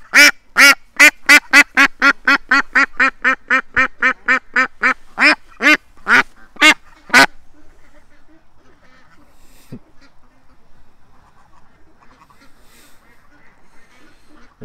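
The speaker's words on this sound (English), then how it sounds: "Relax, little duck." A duck being held in someone's hands quacks loudly and close up, a rapid run of about twenty harsh quacks in steady rhythm over roughly seven seconds, then falls silent, leaving only faint rustling and quiet background sounds.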